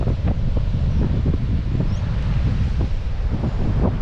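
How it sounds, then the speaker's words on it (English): Steady, loud wind blows across an open seaside campsite at Pebbly Beach in New South Wales, a continuous broadband rush with gusty low buffeting against the microphone throughout. "It is a little bit breezy."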